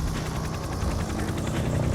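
A helicopter's rapid, steady rotor chop sounds through an old recording. The noise pulses evenly and loudly over a broad hiss for the whole stretch, with no voices.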